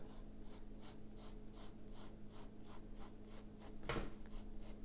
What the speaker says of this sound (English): Now we're darkening those lines as I want to build those in.